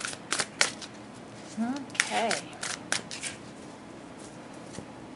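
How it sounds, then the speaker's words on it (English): A deck of tarot cards is shuffled close by in a few quick papery riffles and snaps, while a person speaks briefly between them. "I'll use a different deck and I pre-shuffle prior."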